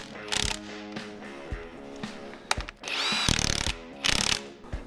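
Power impact gun tightening bolts on a Jeep, several loud close bursts of rapid ratcheting hammering separated by short pauses and handling noises.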